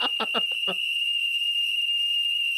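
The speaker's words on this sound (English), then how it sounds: "the smoke alarm needs new batteries" A smoke alarm low on batteries gives off a steady, high-pitched electronic tone that rings without a break from start to finish, with a brief burst of voices over its opening moments.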